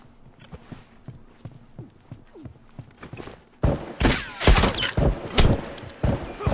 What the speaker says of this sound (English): So we'll just shoot him instead.